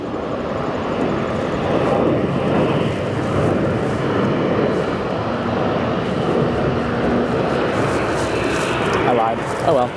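Jet airliner at O'Hare airport in golden hour, a loud steady engine roar filling the whole stretch without a break, broad and rumbling, with a faint thin whine riding above it near the end.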